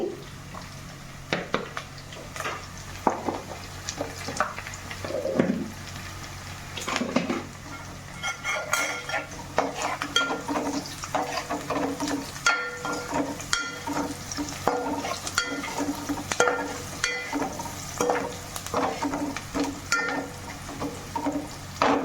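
Onions frying in a pan on the stove while being stirred, with continuous sizzling under frequent scraping and clinking of a spoon against the pan, irregular and close.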